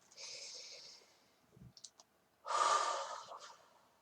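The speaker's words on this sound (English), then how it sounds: "Okay, take a breath." One person takes a deep breath, a slow inhale followed by a fuller exhale, with a few soft clicks in between, close and quiet with no talking.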